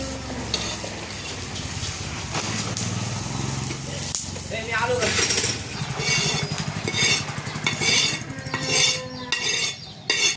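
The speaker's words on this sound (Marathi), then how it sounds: "आजीने भाजीला असा एवढा मसाला घेतलेला आहे तो सगळा थोडंसं धने टाकले, आता भाजून घेते" Spice masala and coriander seeds dry-roasting in a pan for potato bhaji, a soft crackle with spoon scrapes and stirring clinks, with someone talking over it.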